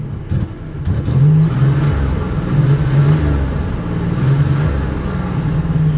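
A 1987 Buick Grand National with an aftermarket boost gauge, its engine cutting out, a loud, close idle that surges and sags unevenly, stumbling and wavering throughout with no talk.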